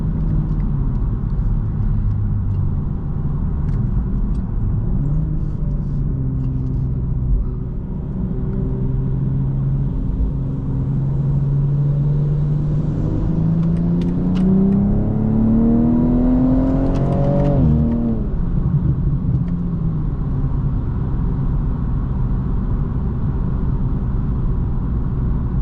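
A 2024 BMW M240i xDrive revs and pulls hard, its engine note climbing steadily in pitch before snapping off, with crackling exhaust pops from the rear. The engine sound is loud, close and continuous, with no talking.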